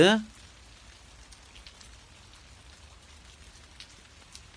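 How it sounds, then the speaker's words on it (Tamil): Rain falling outside a house, a faint, steady patter of scattered drops that continues evenly after a brief voice at the very start. "மழை வருதுடா, உள்ளவா."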